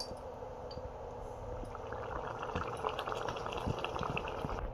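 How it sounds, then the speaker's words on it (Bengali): Potol chingri, a pointed gourd and prawn curry, bubbles over a medium flame, a soft continuous simmer of small pops and burbling close by, with no one talking. "10 মিনিট এটাকে আমি মিডিয়াম আঁচে ফুটতে দেবো।"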